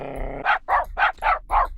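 A video game dog barks repeatedly, five loud, evenly spaced barks close up, after a brief low droning tone.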